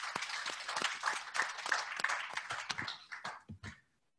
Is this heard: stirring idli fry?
no